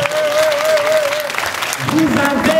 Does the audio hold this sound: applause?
yes